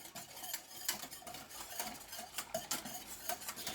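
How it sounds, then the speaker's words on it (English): A vanilla pudding mixture being whisked in a bowl, with quick repeated scraping taps of the whisk against the sides in an uneven rhythm, close and fairly quiet, with no talking. "I'm going to whisk this really, really well."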